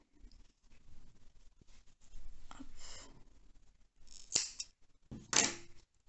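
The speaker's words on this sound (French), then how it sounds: "une maille en l'air, et on coupe le fil" Scissors snip through crochet yarn in a few quiet, close cuts, with soft handling rustles between the snips.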